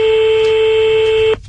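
A telephone line tone heard over a handset during a call, a single loud steady electronic tone holding for over a second before cutting off abruptly, followed by a brief quiet moment.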